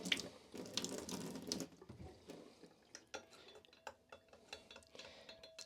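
Hot water poured into a darkroom developer mix for dissolving sodium ascorbate, first as a steady running gush, then giving way to a string of sharp clinks and taps from stirring sticks and vessels, close and fairly quiet.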